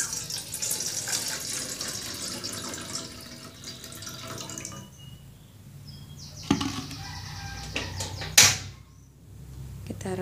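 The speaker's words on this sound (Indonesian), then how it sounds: "Kita tuang air secukupnya." Water poured into a cooking pot for corn cream soup, a steady running, splashing flow heard close up, with a few small knocks and clatters near the end.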